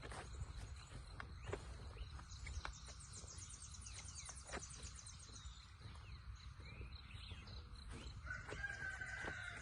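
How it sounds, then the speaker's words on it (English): A faint, distant rooster crows outdoors among other chickens, with a steady low background hum and a crow emerging near the end. "Roosters everywhere."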